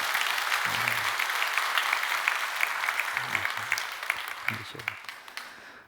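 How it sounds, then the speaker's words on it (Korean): A church congregation applauds loudly and steadily for several seconds, dense clapping filling the room, with a few low voices underneath. "우리 친구들 위해서 여러분 박수 한번 크게 한번 해주셔요."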